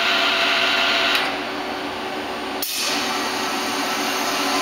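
A Citizen M20 CNC Swiss-type lathe spins its main spindle at 1000 RPM, a steady high mechanical whine and hiss that briefly dips in level and then resumes, heard close with no talk.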